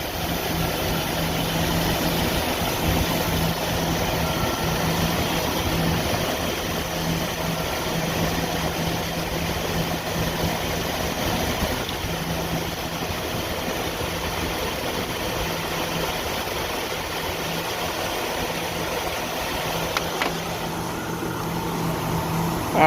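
A 1988 Jeep Wrangler YJ with the 4.2L engine idles after a carburetor adjustment. The idle is steady and even, with a constant low hum and mild vibration running throughout, and no voices.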